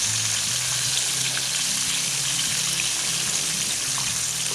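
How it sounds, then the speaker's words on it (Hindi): Food frying in hot oil for a chipotle burger, a steady loud sizzle with bubbling that runs without pause throughout. "ये देखें, अब ये अंदर तक से अच्छे से फ्राई हो जाएगी।"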